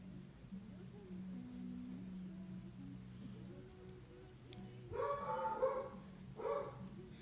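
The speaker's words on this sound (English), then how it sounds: "I don't know if you can hear my dog. She's like going bananas outside." A dog barks outdoors, heard faintly in two bursts toward the end, behind a low indoor hum and faint voice-like tones.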